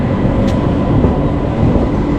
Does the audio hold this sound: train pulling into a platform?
yes